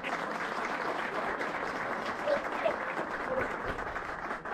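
Applause at the prize announcement of a method feeder fishing competition at Balta Podari, a dense steady patter of clapping held throughout with a few faint voices poking through.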